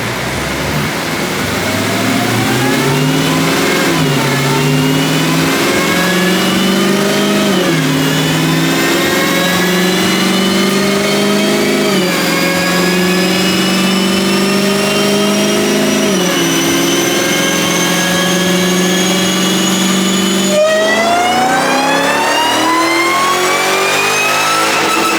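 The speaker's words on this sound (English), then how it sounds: "here we go, pull number 1 on the Demon," A 900+ rwhp Dodge Demon roars through a full dyno pull, its engine note climbing steadily in pitch for about twenty seconds, dipping briefly at each shift, then dropping sharply as the throttle lifts. Loud and sustained, with no talking.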